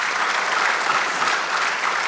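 A church congregation claps together in praise, producing a steady, even roar of many hands that stays full and consistent from start to end.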